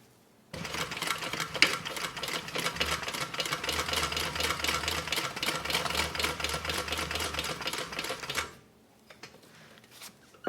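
Sewing machine stitching a James range bag, a dense rapid run of needle strokes lasting about eight seconds, loud and close, with the motor hum beneath, then stopping abruptly into near quiet.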